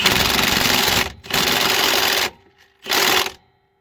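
An impact wrench tightens strut bolts on a 2000 Toyota Camry in three loud, close bursts of steady rattling hammering, the first two long and nearly joined, a short pause, then a final shorter burst before silence.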